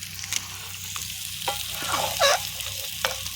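Carrot, capsicum, chili, ginger and garlic tossed into a hot frying pan for prawn rice, giving a soft, steady sizzle with a few scraping stirs and a brief louder hiss midway, with no talk.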